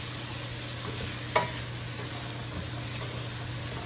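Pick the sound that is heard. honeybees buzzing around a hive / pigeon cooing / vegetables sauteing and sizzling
vegetables sauteing and sizzling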